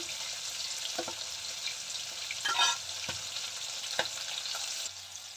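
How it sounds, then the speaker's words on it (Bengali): Vegetables frying in oil in a home kitchen, a steady close sizzle with soft stirring scrapes and a few clinks from the pan, no voices. "সবজিগুলো ভেজে নিই"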